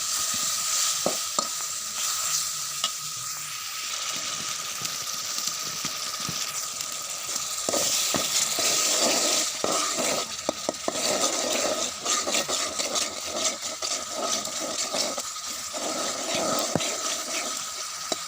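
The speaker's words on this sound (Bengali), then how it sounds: "এখন একটু পানি দিয়ে এগুলো আমি ভালোভাবে কষিয়ে নেব যাতে হলুদ মরিচের কাঁচা গন্ধটা চলে যায়" Turmeric, chili and garam masala spices cook with a little water in a pan, giving a continuous close sizzle broken by scattered scraping and clicking strokes as they are stirred, with no voices.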